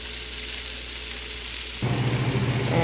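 Food sizzles steadily in a hot pan, then the frying swells louder and crackles more densely partway through as chard hits the oil.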